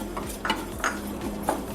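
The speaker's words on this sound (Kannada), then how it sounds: "ಇದು ಘಮ್ಮನ ತನಕ ಹುರ್ಕೋತಾ ಇದ್ದೀನಿ ನಾನಿವಾಗ." Urad dal dry-roasting in a pan while being stirred: soft, intermittent scrapes and light rattles of the lentils against the pan, quiet over a low, steady hum.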